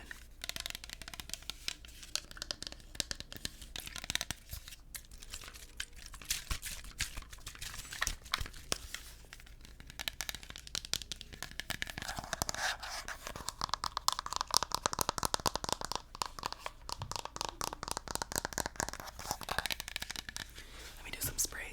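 Fingertips tap and click on a small plastic Febreze kitchen odor-fighter bottle in fresh lemon scent, producing crisp, rapid close-up clicks and light crinkly scratching at a quiet level, with soft whispering throughout.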